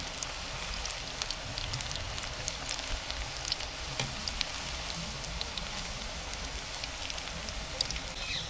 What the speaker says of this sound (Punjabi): ਇਹ ਚੰਗੀ ਤਰ੍ਹਾਂ ਰੜ ਗਏ ਫਿਰ ਆਪਾਂ ਕੱਢਾਂਗੇ